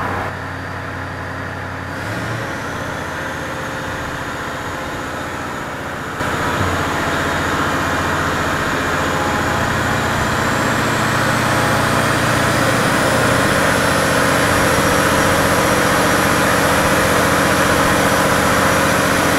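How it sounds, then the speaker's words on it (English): A remanufactured Caterpillar engine runs with no muffler in an enclosed dyno room, a loud, steady roar that jumps up partway through and then holds a rising, even drone with a high whine on top. "These engines are all run with no mufflers, so they are very noisy."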